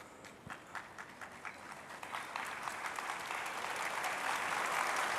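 An audience at a Delhi government event claps in a steady, building round of applause, starting scattered and thickening into a dense, sustained ovation.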